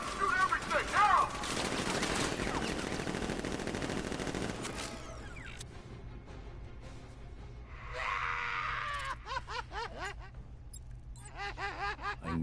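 Batman Arkham Knight gunfire, a sustained loud volley of automatic shots for the first few seconds, fading into quieter sporadic reports under character voices and shouting.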